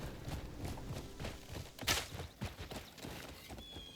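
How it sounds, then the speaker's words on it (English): Horse hooves clip-clop at a steady walking pace through a town in the video game Crimson Desert, moderately loud with faint background ambience and no talk. "Everybody is so dramatic when I ride a horse through town."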